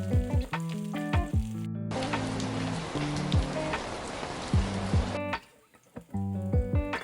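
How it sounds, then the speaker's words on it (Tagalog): Potatoes fry in hot oil with a loud, dense crackling sizzle in the middle stretch, framed by music before and after. "isusunod ko na rin magprito ng ating patatas"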